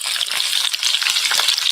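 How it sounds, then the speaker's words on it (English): Chopped onions sizzle in a hot pan while cooking trinchado, giving a steady, close, loud frying hiss that runs unbroken from start to end, with no talking. "That's the sound of a sizzle."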